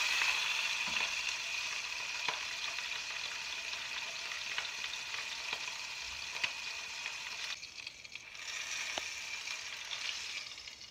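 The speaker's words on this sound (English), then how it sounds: "Once you've got it seared on all 4 sides, take and turn your heat down to low." Venison sears in a hot pan with a loud, constant high sizzle and occasional small pops or tong taps. The sizzle dips briefly near the end. No voice is heard.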